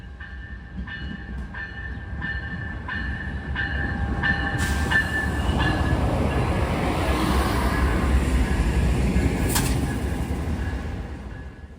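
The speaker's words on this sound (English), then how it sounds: "Amtrak 40 had a Siemens Charger up front today." Amtrak passenger train led by a Siemens Charger locomotive rolling through Elkhart, a steady loud rumble with rail clatter and faint wheel squeal, building as it passes close by.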